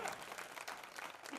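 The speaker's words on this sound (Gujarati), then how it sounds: "અમારી બેન માટે તાળી પાડો ભાઈ" At a temple idol-consecration auction, people clap for a woman bidder, a brief, fairly faint patter of scattered applause in a large gathering.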